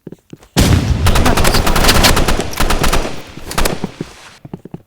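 A flamethrower-type gun in the video game Marvel Rivals firing in one loud sustained burst, a dense rapid rattling roar lasting several seconds before cutting off, with scattered clicks before and after.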